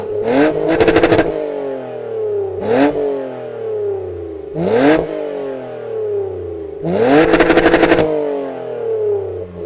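A Toyota Camry with a modified split exhaust revs hard in four separate bursts, each a sharp climb and fall in pitch, some ending in crackling pops, with no talk over it.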